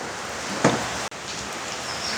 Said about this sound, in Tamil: வெளியால் நல்ல மழையும் பெஞ்சு கொண்டிருக்கு